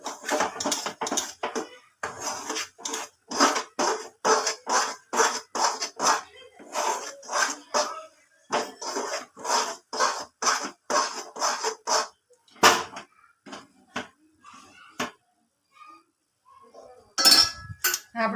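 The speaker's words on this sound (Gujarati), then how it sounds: "આવી રીતે આપણે ચમચીથી હલાવશું કેમ કે તાવીથાથી આવતું નથી." A spoon scrapes and clinks steadily against a pot while Mysore pak mixture with cardamom powder is stirred, the strokes coming close and rhythmic, then turning sparser and irregular toward the end, with a voice talking now and then.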